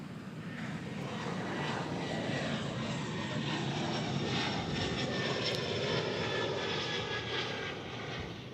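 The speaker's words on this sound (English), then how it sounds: "So that 777 headed to London Heathrow." A Boeing 777 jet bound for London Heathrow roars at DFW airport, its engines giving a loud, steady, broadband rumble that holds evenly throughout, with no speech.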